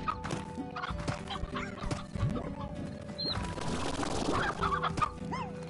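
Briar hens in the Slime Rancher video game cluck and squawk in short repeated calls, moderately close, layered over steady game music and ambient ranch sounds.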